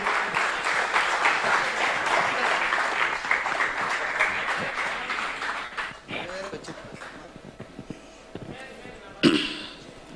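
An audience at a BJP political talk event claps to welcome a speaker to the stage. Dense applause fills the first six seconds, then thins to scattered claps while a few voices come through.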